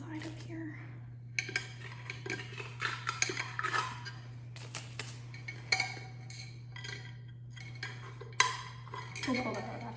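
A cooking pot being handled outdoors in the cold, with clanking and clinking of metal and utensils in irregular bursts over a steady low hum, fairly close and moderately loud.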